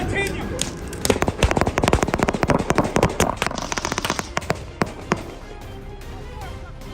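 Rapid volley of sharp gunshots as police officers fire into a vehicle holding a suspect, dozens of loud cracks bunched closely in the first seconds, then thinning to scattered shots over a steady roar.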